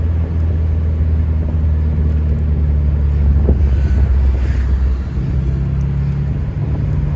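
A 1991 Alfa Romeo Spider Veloce drives at steady engine load, a continuous low drone with a brief dip and change in tone around a gear shift, recorded up close from inside with some wind noise.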